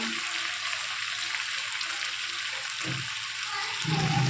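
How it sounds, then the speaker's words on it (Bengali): Mutton sizzles loudly and steadily as it is fried and stirred in oil for kosha, a dense, continuous frying hiss with faint stirring shuffles throughout. "এই যে মাটন কষা হচ্ছে চলছে মটন কষানো"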